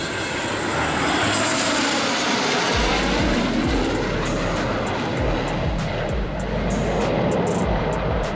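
An aircraft engine roars loudly and continuously at an aviation air show, a broad, close, steady drone filling the scene with no clear talk.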